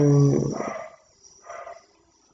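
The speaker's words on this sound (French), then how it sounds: "on a le chien qui aboie un peu" A dog indoors lets out a short growling bark followed by a fainter second grumble, close by and with no talking.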